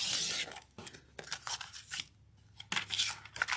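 Paper is cut with scissors in several close, crisp snips and slicing strokes, with short pauses between the cuts, quiet and alone.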